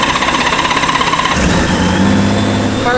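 Honda Goldwing motorcycle with about 28,000 miles fires up on full choke; a rough, pulsing crank gives way to a loud, close, steady idle with a low throbbing rumble.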